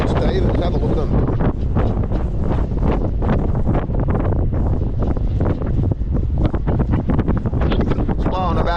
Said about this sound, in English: It's blowing about a 15 knot northerly, which is going to increase to 20 to 25